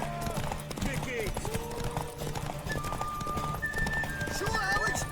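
Horse in The Witcher 3 game trotting with steady clip-clop hoofbeats and a whinny, under game music and a character's voiced talk throughout.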